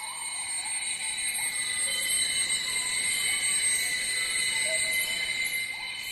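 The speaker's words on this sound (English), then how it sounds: "And a rainforest sounds a bit like this." Night chorus of Borneo rainforest, mainly frogs calling: dense, continuous high-pitched trilling and whistling layers with scattered chirps over a low hiss, steady and enveloping.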